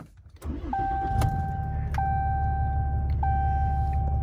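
Ram truck with a 6.7 Cummins diesel turning over on a cold start and settling into a steady, loud low rumble with door chimes pinging repeatedly above it.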